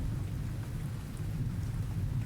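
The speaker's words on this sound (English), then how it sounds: "Bit of rolling thunder." Low, continuous rumble of distant thunder beneath a steady wash of rain.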